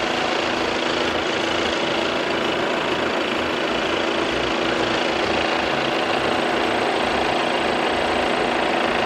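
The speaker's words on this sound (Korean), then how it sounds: "엔진 소리 일정하고 좋습니다." An Audi A6 35 TDI (C7) diesel engine idles steadily and evenly, a close, continuous low rumble with a faint rhythmic knock and no voices.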